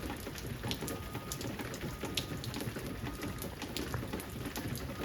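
Steady rain falls outside a transmission repair shop, a dense continuous hiss of drops pattering on surfaces, even and unbroken throughout.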